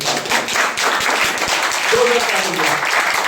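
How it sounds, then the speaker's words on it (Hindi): A church congregation claps loudly and steadily in a dense, continuous burst of applause, with voices heard over it. "आइए जोरदार ताली बजाएं।"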